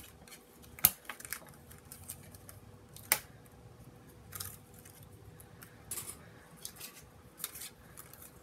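Scissors cut out paper card pieces for a pinwheel birthday card, giving a handful of faint, sparse snips and clicks spread across quiet stretches, close by and with no voices.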